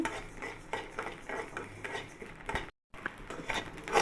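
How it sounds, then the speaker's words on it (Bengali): Broken rice, mixed with salt and a little water, is stirred and fried in a pan, with a spoon scraping the metal in quick rhythmic strokes and a soft sizzle beneath, pausing briefly near the end. "এটা হচ্ছে বাঙ্গা চাউল এটা আমাদের দেশে বলে খুদ খুদের চাউল এগুলা এখন আমি ভেজে নিচ্ছি"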